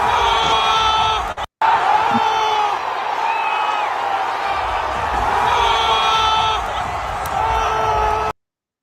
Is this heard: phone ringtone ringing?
no